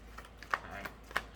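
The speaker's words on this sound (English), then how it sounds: "I'm going to keep shuffling." Tarot cards being shuffled by hand, giving a few soft, quick riffling flicks spaced irregularly, quiet and close with no voice over them.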